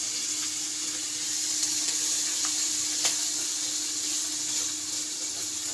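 Small hilsa fish fry in hot oil with a steady, even hiss, a few faint pops and clicks rising now and then.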